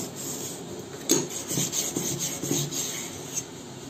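A hand plane blade is rubbed back and forth on a sharpening stone, giving a run of soft, close scraping strokes in an uneven rhythm, with no talking.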